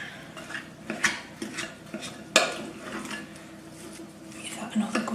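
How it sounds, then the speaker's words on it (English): Thick biscuit dough for gingermen and star biscuits is mixed by hand in a bowl, giving a steady scraping and knocking of a spoon against the bowl with occasional sharper clinks, close by. "Give that another good mix around"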